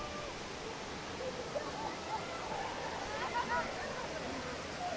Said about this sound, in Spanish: Miren amigos, de aquí sale el agua de la cascada.